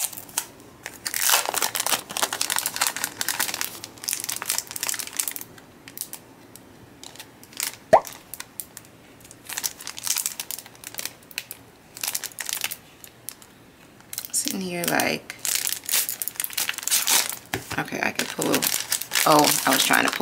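Plastic packaging of a 415-sticker, 12-sheet sticker pack crinkles and crackles in close, irregular bursts as it is pulled open, with brief pauses and a quiet voice now and then.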